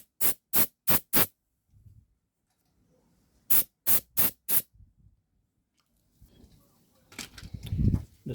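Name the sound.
compressed air blowing on brushcutter parts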